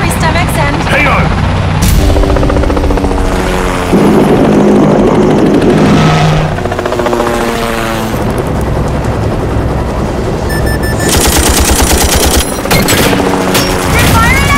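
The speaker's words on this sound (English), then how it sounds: "They're firing at us!" A helicopter thunders in a film action scene while bursts of gunfire rattle at it, heavy rotor roar and rapid shot clusters overlapping loudly, with shouted voices mixed into the chaos.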